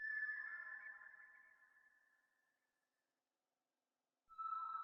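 RnB chord sample played through a twisted echoes delay at a low mix in FL Studio: a sustained smooth chord that slowly decays into silence, then a new chord enters sharply near the end, alone with no voices.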